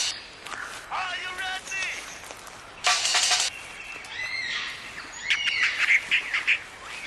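Lyrebird mimicking a turntable scratch, with rapid chirps, warbles and a loud whooshing scratch-like burst among the birdsong in a close, busy outdoor setting.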